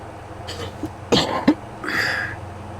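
A couple of sharp, close coughs in quick succession, followed by a brief breathy sound, in an otherwise quiet room.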